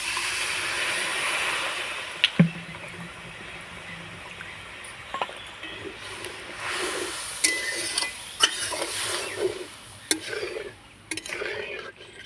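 Water poured into hot fried masala for a green pea curry sets off a loud hiss that fades into a softer simmer, broken by scattered clanks of a utensil against the pot.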